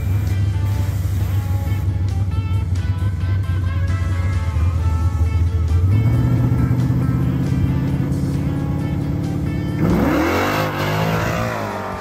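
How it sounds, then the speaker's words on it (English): A Chevrolet Malibu race car fitted with a nitrous switch accelerates hard at close range, its engine droning steadily and then stepping up in pitch through two gear changes into a loud final surge. "Billy and I took the Malibu back up to the spot to see what kind of an improvement we've made with the new nitrous switch"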